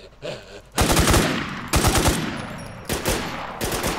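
Bursts of automatic gunfire in the shooter game Infestation: The NewZ, three loud rapid volleys separated by short pauses, with a faint voice before the first burst.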